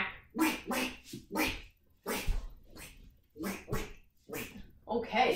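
Children's voices mimic a duck's quack during a farm-themed kids' yoga session, a string of short, separate nasal calls in an uneven rhythm, fairly close and loud.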